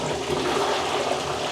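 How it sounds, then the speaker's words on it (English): A toilet in a bathroom of an abandoned mansion, renovated around 2005, flushes with a loud, steady rush of water, heard up close and alone for the short clip. "Is that the button to flush the toilet?"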